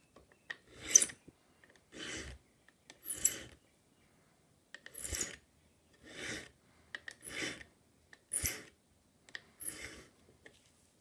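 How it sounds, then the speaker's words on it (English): A pivot file rasps back and forth across the cut end of a tapered pin from a vintage English Enfield mantle clock, squaring it off in about ten distinct short strokes separated by pauses. "using a pivot file, we'll first square the end"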